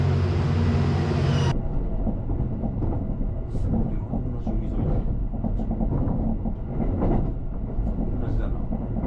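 A train rolls into a Japanese station platform, a loud continuous rumble with rhythmic rail clatter and wheel noise filling the whole stretch, after a sudden cut from broadband noise, with faint voices in the background.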